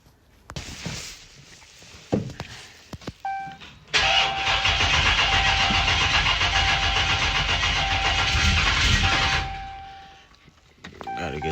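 A car engine with a scat swap and a newly installed intake manifold cranks and catches, then runs steadily for several seconds before cutting off, with a few clicks and clunks before it starts.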